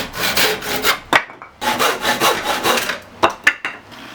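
Hand sawing through a pallet wood couch leg, steady back-and-forth strokes close up and loud, pausing briefly before a few final sharp cuts and knocks.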